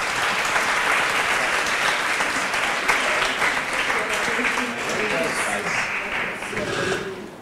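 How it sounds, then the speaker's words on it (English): Audience at a SheSays Singapore panel event claps in sustained, dense applause for several seconds, fairly close, with some voices mixed in toward the end. "So if everyone can give us a round of applause."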